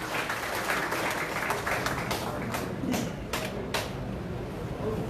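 An audience at a Korean political party provincial inauguration claps for an appointee receiving a certificate, a continuous crackle of many hands at moderate volume that thins slightly in the second half, with a few louder isolated claps.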